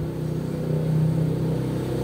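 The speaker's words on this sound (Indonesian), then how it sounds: "Tuh, truk." A truck passes by outside, heard as a steady low engine rumble and drone that swells slightly toward the middle and then holds, fairly loud, with no voices.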